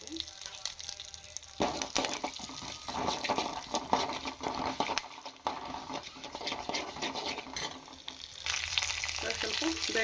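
Mustard seeds, cumin and a dried red chili sizzle and crackle in hot oil in a pan, a steady frying hiss with bursts of popping and stirring throughout.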